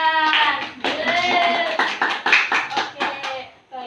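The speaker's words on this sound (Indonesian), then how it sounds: "Ini tepuk tangan buat kalian." Children in a sixth-grade classroom clap their hands in an uneven burst, with voices and bleat-like shouts mixed in close over the clapping throughout.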